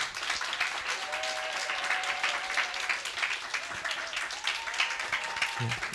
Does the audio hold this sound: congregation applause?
yes